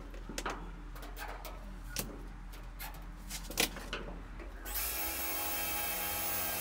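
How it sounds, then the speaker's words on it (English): A drill bores small holes along a cut line in the roof panel of a 1961 VW split-screen Kombi, with scattered close knocks and clatters before a steady, loud high-pitched whine runs through the final seconds. "I drilled small holes along the line I'll use to give me a reference from outside."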